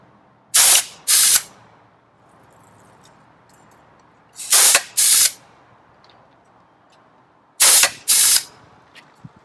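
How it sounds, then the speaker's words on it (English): A pneumatic fastening gun clips gabion basket wire together, firing in three pairs of sharp, hissing bursts spaced a few seconds apart over quiet background. "So I'm going to finish up with our pneumatic gun."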